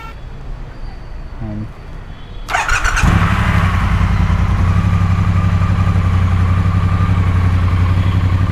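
A 1200cc motorcycle engine starts up after a few quiet seconds, then settles into a steady, loud, throaty exhaust idle close by.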